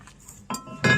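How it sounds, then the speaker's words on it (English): A glass panel is set into an Eco Hot Box, giving a few sharp, close clinks and knocks in quick succession against a quiet background, with no talk. "first I put the glass in"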